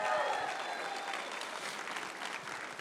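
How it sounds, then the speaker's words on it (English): A crowd applauds as a couple walks up to a stage, giving a continuous wash of clapping that holds steady throughout, with a faint hint of voices underneath. "Give them a hand as they're walking up."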